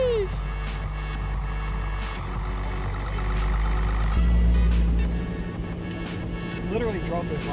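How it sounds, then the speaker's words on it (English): A Nissan Skyline R33 pulls out at a car meet, its engine rumbling low and swelling briefly midway before easing off, with background noise from the surrounding crowd. "R33 pulling out."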